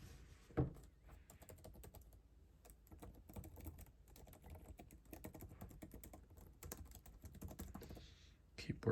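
Typing on the keyboard of a Lenovo Legion Slim 7i laptop, 2023 RTX 4060 model, with an all-metal body: a quiet, steady run of soft key clicks at close range, in rapid irregular bursts.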